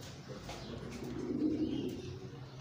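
Pigeons coo softly in a loft, a low murmuring coo that swells in the middle, faint and steady against background noise.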